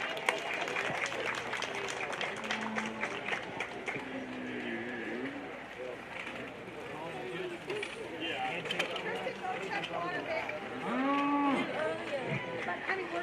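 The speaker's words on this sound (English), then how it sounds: "Let's give both of these two young people a big, big round of applause" A crowd applauds for two young exhibitors in the ring at a junior livestock show. The clapping is moderate and steady, with people talking and cattle mooing through it.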